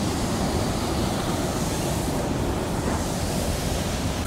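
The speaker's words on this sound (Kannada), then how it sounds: "ನೋಡಿ ಇದು ಸಖತ್ ಫೋರ್ಸ್ ಆಗಿದೆ ಫಾಲ್ಸಲ್ಲಿ." Powerful rushing water of Hogenakkal waterfall, a loud, steady broadband roar with no breaks, heard up close from a boat on the river, with no voices over it.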